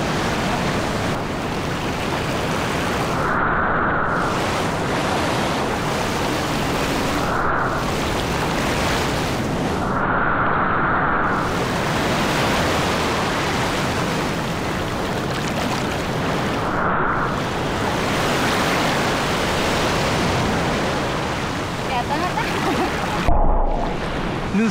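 Strong ocean waves at Nusa Penida, Bali, rush and roar continuously, close and loud, with several brief surges and lulls and wind buffeting the microphone.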